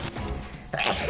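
A single short sneeze bursts out close by, a quick sharp expulsion of breath, loud against the quiet room.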